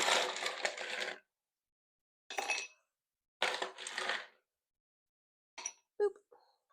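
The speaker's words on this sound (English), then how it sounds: "We're going to add ice." Ice dropped into a rocks glass comes in several separate bursts of clinking and rattling cubes, close and fairly loud, with quiet gaps between, then a final lone cube clinks in.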